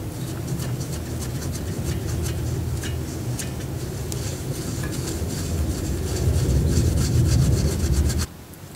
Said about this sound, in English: Just use a bit of scotch pad and clean up the pivot point on this piston.